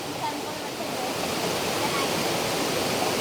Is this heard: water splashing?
yes